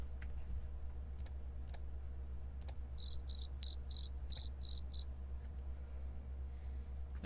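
A cricket chirps in a quick series of about seven short, high pulses in the middle, each a bright trill, over a low steady hum with a few faint clicks before and after.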